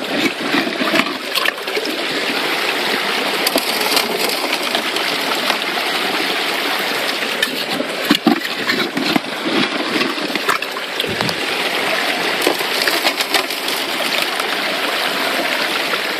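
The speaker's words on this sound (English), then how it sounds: "But we've got so much water flowing through" Heavy water flow rushes through a Keene A52 sluice box, a loud, steady, close-up churning and splashing that carries on unbroken with no voices.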